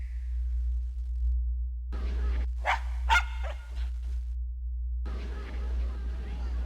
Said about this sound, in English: I guess a dog lives there